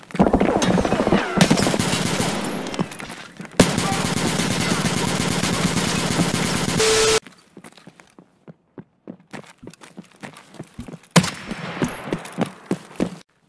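PPSh submachine gun bursts rip out in the video game Escape From Tarkov, two long sustained strings of rapid fire followed by quieter footsteps and scattered thuds.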